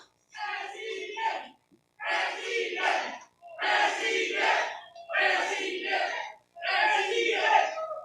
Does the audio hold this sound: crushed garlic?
no